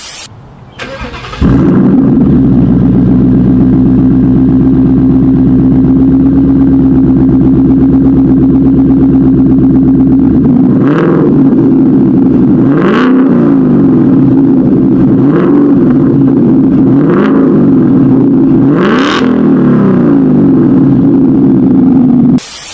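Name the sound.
Mustang GT V8 engine revving with exhaust crackle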